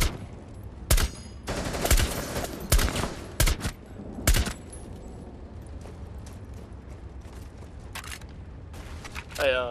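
Rapid gunfire in the online shooter Rainbow Six Siege, a few loud dense bursts early on that thin to sparser shots later, with players talking over the action.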